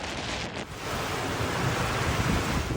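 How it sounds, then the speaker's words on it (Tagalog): Heavy, continuous roar of rough sea and surf at Batanes, Philippines, mixed with strong wind buffeting the microphone, loud and unbroken throughout. "Naggangalit ang dagat sa Batanes ngayong umaga."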